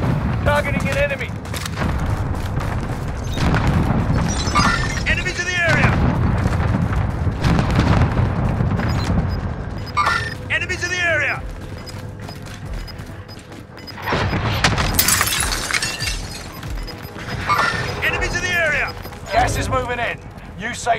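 Precision airstrike explosions in the Fortune's Keep shooter game, heavy booms and rumbling blasts rolling through the scene alongside gunfire, with game voice lines and player talk over the top.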